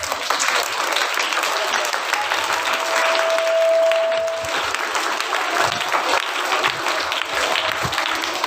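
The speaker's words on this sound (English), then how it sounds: "Please give her a round of applause." Loud applause from a school assembly audience, dense steady clapping that carries on for several seconds with a faint voice briefly audible beneath it.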